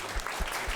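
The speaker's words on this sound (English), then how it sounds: "We partnered with historian Jean Chavez, who deserves a round of applause." An audience at a panel on Mexican American Vietnam-era veterans claps for a historian, a brief burst of applause with a few distinct hand claps, close and moderately loud.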